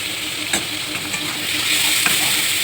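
Boiled drumstick stalks and potatoes added to spice paste in a pan: a steady, close sizzle broken by a few sharp scraping strokes from stirring.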